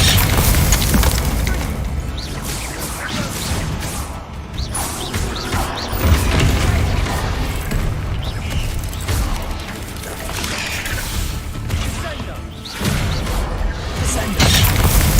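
Descendo spell effects in Hogwarts Legacy, cast over and over in a loud, dense run of booming crashes, creaking and grinding mechanical noise, with a faint voice now and then under the din.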